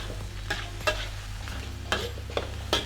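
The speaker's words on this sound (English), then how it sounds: "actually try and disperse that through the mince using the back of the spatula" Chili jam worked through minced meat in a hot pan with the back of a spatula for a Thai basil stir fry: a steady low sizzle with a few sharp scraping strokes against the pan, close and fairly loud, no talking.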